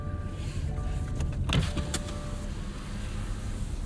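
Power windows on a 2024 Subaru Crosstrek Sport give a short electric motor whine as a window moves. It stands out briefly over a low, steady cabin rumble.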